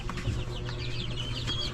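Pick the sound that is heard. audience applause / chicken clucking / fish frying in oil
chicken clucking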